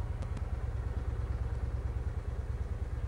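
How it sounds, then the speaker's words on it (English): A motorcycle engine idles steadily close by, with a low, even, throbbing putter and no voices. "The engine sounds good. It's purring."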